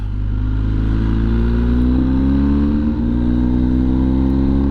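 Inside a car climbing a winding mountain road toward Rarău in Romania, a steady, loud engine drone and road rumble fill the cabin, the pitch slowly rising as it accelerates, with no talk.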